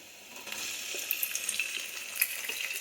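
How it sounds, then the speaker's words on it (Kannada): Onions sizzling in a frying pan over a medium flame: a steady, bright hiss that swells slightly with small crackles and pops, close by. "ಈರುಳ್ಳಿ ಹಾಕ್ತಾಯಿದ್ದೀನಿ"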